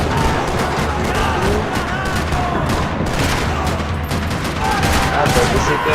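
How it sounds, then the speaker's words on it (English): Video-game gunfire in Max Payne 3, dense overlapping shots rattling across a parking lot, loud and continuous with rapid bursts and no break. "Another parking lot rattling with gunfire."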